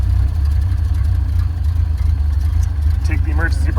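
A 1930 Ford Model A engine runs steadily with a loud, dense low rumble and the throttle raised, someone talking over it briefly near the end.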